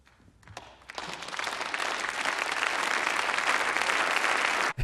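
A film audience bursts into applause after a speech, the clapping building from a few scattered claps into a dense, sustained ovation that holds steady before cutting off abruptly.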